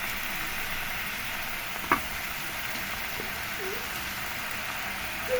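Kangkong with tofu frying in a small, low pan, giving a steady close sizzle with faint crackle and one brief sharp pop, no talking.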